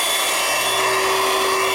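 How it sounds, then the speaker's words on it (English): Audew 12V DC portable car vacuum cleaner running continuously with a steady, fairly loud motor whine and airflow hiss, a constant tone with no pauses, alone without talk. "So I think I broke the switch already. It doesn't work anymore. But the vacuum works."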